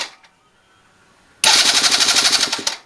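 A Venice 50cc scooter is quiet for over a second, then its electric starter catches and the small engine bursts into a loud, rapid, rattling idle up close.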